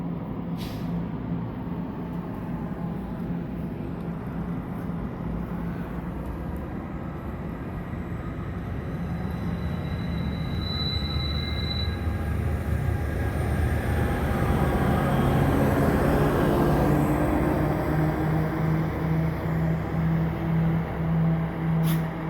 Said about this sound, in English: So this train goes to Vaudreuil.